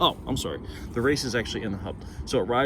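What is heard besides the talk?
No everyday noise stands out behind the speech.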